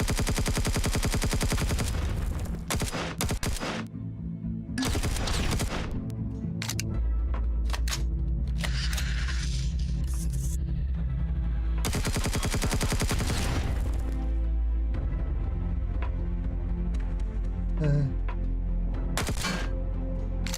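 Rapid bursts of automatic turret fire in a video game, several loud sustained volleys separated by short pauses over a steady game soundtrack, no talking.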